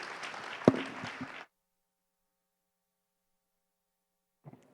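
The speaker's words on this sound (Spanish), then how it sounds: "El aplauso pues naturalmente es para ellos." A panel audience on Colombia's demographic transition and health system applauds in a brief burst of clapping lasting under two seconds, cut off abruptly into silence, with a faint trace of sound near the end.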